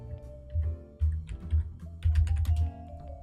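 Fingers typing on a computer keyboard while coding a 3D game: quick, close clusters of key clicks with short pauses between bursts, fairly quiet and with no talking over them.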